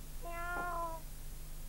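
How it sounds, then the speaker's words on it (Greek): A kitten's meow in a Karagiozis shadow puppet play: a single clear, rising-then-falling mew of about a second, fairly close over a steady low background hum. "Είναι τα γατάκια μου."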